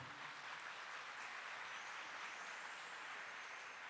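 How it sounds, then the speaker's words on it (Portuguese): Steady applause from a church congregation at Catholic Mass, a continuous wash of many hands clapping together without pause, heard from some distance and without voices over it. "Um aplauso para você que é católico"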